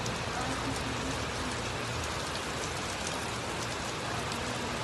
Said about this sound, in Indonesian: hujan deras melanda Brasil